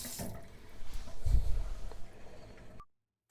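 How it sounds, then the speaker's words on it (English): Water runs and trickles off a rinsed pork shoulder in a kitchen sink, a short close splashing flow that tapers and then cuts off. "I'm going to let that water drain off a little bit"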